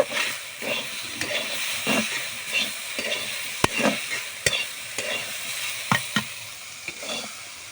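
Yardlong beans frying in a pan give a continuous close sizzle and hiss, broken by regular stirring scrapes and a couple of sharp metallic clinks, with no voices.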